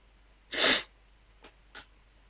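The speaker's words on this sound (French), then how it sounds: "Excusez-moi si je renifle un peu, mais je suis malade." A sick person gives one sharp, close sniffle-like snort, then two much fainter short sniffs follow about a second later in an otherwise quiet room.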